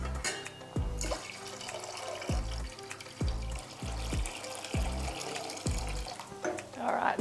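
Cold water pours from a tap into a pot while a series of heavy low thuds and knocks punctuate it.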